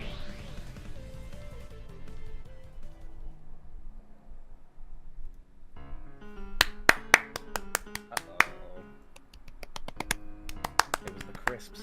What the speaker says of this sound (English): It was the crisp sound of the witch applauding.